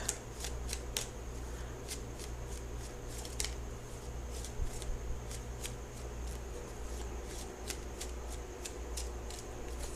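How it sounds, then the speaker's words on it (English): Tarot cards being shuffled during a Libra love tarot reading: repeated crisp riffling snaps close to the microphone over a steady low hum, with no talking. "So I'm going to shuffle for the outcome card."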